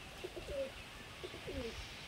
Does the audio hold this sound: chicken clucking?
no